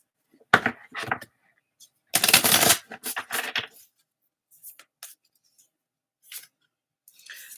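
Stiff oracle cards being shuffled by hand, heard as a few short, crisp riffling and slapping bursts separated by quiet gaps, close and moderately loud.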